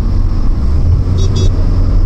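A Tata Altroz DCA automatic hatchback's engine pulls hard as the gearbox kicks down, a steady loud drone with low rumble filling the cabin throughout, with no talk over it.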